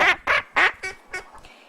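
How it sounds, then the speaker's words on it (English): A young pet duck quacks about six times in quick succession, close and clear, the calls tapering off softer at the end. "And this is my fourth duck"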